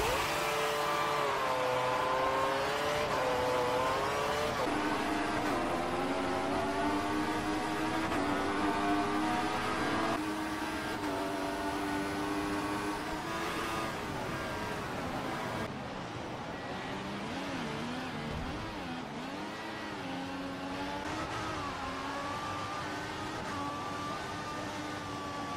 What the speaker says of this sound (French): On voit nettement dans le rétro de Maxi sur ce ralenti la Force India qui rate l'entrée de la chicane